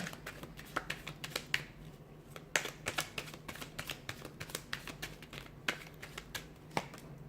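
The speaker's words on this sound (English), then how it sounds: "Let's give the cards a shuffle" Tarot cards are shuffled in quick, irregular bursts of crisp flicking and tapping, close by and fairly quiet over a low hum.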